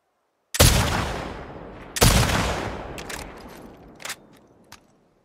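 Gunshots in The Last of Us Part II video game: two loud, sharp rifle shots with long decaying echoes, followed by a few quieter, fainter pops, with no talking.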